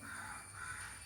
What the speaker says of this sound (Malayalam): ആ കാക്ക പോയിക്കോട്ടെ.